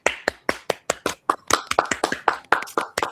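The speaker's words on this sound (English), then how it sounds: "give her a round of applause before she starts talking" Several participants in an online project management meeting clap into their microphones, producing a brisk run of sharp, separate claps at close range with no talking over them.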